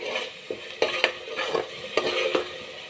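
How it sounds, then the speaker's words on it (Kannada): Pulao ingredients are fried in oil and stirred in a pan, a steady sizzle broken by a string of sharp scraping and clinking strokes from the spoon against the pan at an uneven rhythm. "ಎಣ್ಣೆ ಅಂಶ ಎಲ್ಲ ಮೇಲೆ ಬರುವ ಹಾಗೆ ಫ್ರೈ ಮಾಡಬೇಕು."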